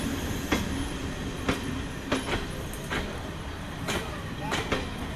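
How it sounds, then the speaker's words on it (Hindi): Train rolling into Tatanagar railway station, a continuous rumble of wheels with repeated sharp squeals and clanks as the cars pass close by, with someone talking over the platform noise. "फाइनली ट्रेन आ चुका है"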